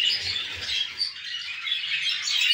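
Breeding-season aviary birds, males in a flight pen placed beside the females' pen, squawk and chatter in a busy, overlapping stream of sharp high calls, close and fairly loud, with a few soft low thumps early on.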